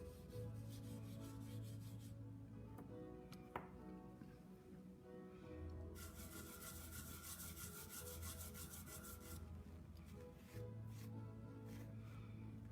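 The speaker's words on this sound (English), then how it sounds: "I'm going to cross hatch color. So I'm going to take my red and put some red color in." Colored pencil cross-hatches red onto a drawing, making a very faint, steady scratching and rubbing that continues with slight changes in stroke direction.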